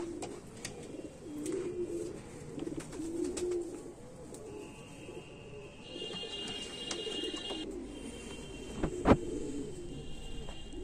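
Racing homer pigeons, a male and a female bird, coo softly and repeatedly in a low throaty murmur against a busy background with scattered chirps and a sharp click.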